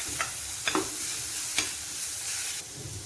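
Spatula stirring onions and ground masala paste frying in a pan, several distinct scraping strokes over a continuous close sizzle, no talking.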